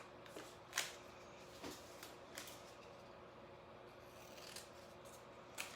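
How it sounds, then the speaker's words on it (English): Stencil-cutting scissors snip paper to cut out a letter for a fall banner, giving a few faint, scattered snips and rustles in an otherwise quiet room. "I'm using my stencil cutting scissors"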